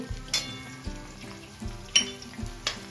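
Turmeric stirred into tomato masala frying in a pan for a crab curry, a steady close sizzle broken by several rhythmic scraping strokes of the spoon against the pan.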